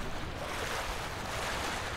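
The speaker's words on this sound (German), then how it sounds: "Da hat mich gerade die Welle an den Felsen gepeitscht." Waves surging and crashing against rocks on a cold coast in the video game Ghost of Tsushima, a steady broadband wash of surf with a windy roar, fairly loud and continuous, with no voices.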